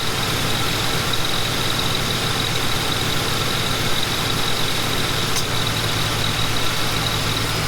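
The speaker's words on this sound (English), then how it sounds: "the AC compressor is kicking in and out" A Ford Panther-platform car idles steadily with the air conditioning running, its AC compressor clutch kicking in with a brief click partway through over a constant engine drone and a faint high whine; no voices.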